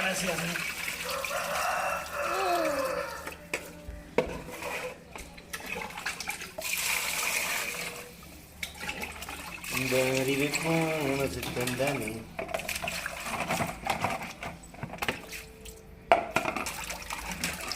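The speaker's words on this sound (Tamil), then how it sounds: "நல்லா தண்ணி ஊற்றி" Water is poured over fish in a bowl while rinsing it, a splashing, gurgling wash that comes and goes under a voice talking through much of the scene.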